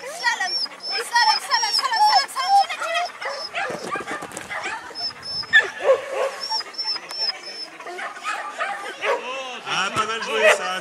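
Dogs barking, yipping and whimpering at a dog agility competition in Luynes, with repeated sharp barks close by over busy crowd chatter and people talking throughout.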